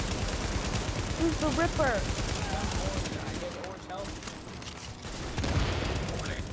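Bursts of automatic gunfire in the video game Tom Clancy's The Division during a squad fight, rattling steadily under the players' talk and briefly easing before resuming.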